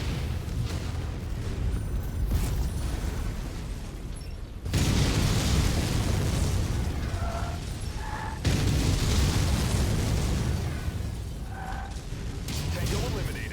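Missile blasts in a MechWarrior game as an Atlas AS7-RS mech takes fire: deep rumbling booms and bursts over steady mechanical drone, with short electronic beeps and game voice callouts between the hits.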